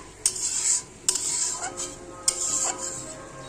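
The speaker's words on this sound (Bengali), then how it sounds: "পোস্তটা দিয়ে একটু লাড়াচাড়া করে অল্প জল দিয়ে দিলাম" A utensil scrapes and stirs poppy seed paste with a little water in a wok, producing a few sharp metallic clicks followed by softer scraping and a faint sizzle, close and alone.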